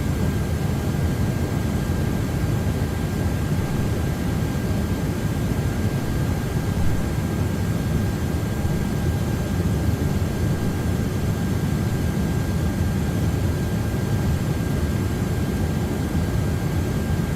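A Delta A330-300 jet takes off in Microsoft Flight Simulator 2024, giving a loud, steady, broadband engine roar with a faint whine that holds evenly from start to finish.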